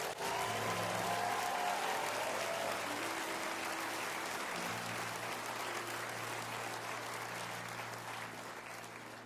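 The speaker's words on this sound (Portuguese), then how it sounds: "Todo mundo aplauda Jesus agora mesmo." A church congregation claps together in sustained applause under soft sustained organ-like tones, the clapping staying loud and steady before gradually fading.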